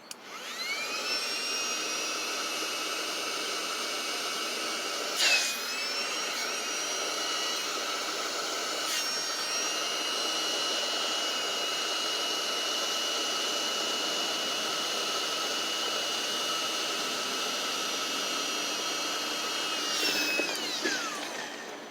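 An electric air pump inflates a Kaishengyuan truck bed air mattress with a loud, steady droning whoosh that runs unbroken for over twenty seconds, marked by a couple of brief bumps.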